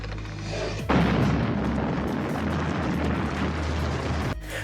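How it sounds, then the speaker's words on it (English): A sudden loud explosion in the 1987 film The Monster Squad bursts in after a quiet moment, then a long roaring rumble of debris and crackling that fills several seconds before cutting off. "Frankenstein kind of knocks himself out on accident by setting off an explosion"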